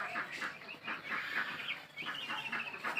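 A shed of seven-day-old broiler chicks, heard from outside, keeps up a dense, continuous chorus of high, overlapping peeps and chirps at moderate loudness.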